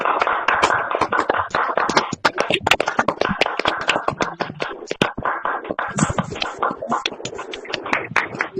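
Loud audience applause at a business presentation, dense sustained clapping welcoming a speaker to the stage, with some voices and cheers mixed in throughout.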